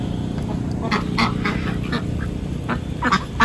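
Several ducks quack repeatedly at close to moderate range over a steady low background rumble, after heavy rain.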